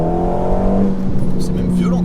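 Alpine A110 Radicale at full throttle, its engine note a loud, steady roar with harmonic bands that rise and shift as it accelerates. Voices are present.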